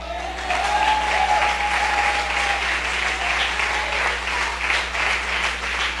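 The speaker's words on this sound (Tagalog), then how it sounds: "Yung mga tao dito, sige palakpak." A church congregation claps together in steady, dense applause that starts after a brief pause and carries on evenly to the end, with a faint voice trailing over the opening.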